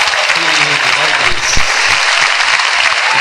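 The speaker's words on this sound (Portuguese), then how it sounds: "Louve a Deus, igreja, com as palmas bem fortes." A church congregation claps hard and steadily during worship at a Portuguese-language service, loud and continuous with voices mixed in.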